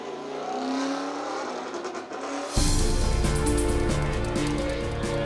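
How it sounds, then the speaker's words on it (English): Suzuki inline-four MotoGP race bike on a GP circuit during 2013 season testing, its engine note rising steadily, then a sudden loud, dense roar of the machine at close range that holds for the rest of the clip. "The inline four engine MotoGP race machine evolved steadily."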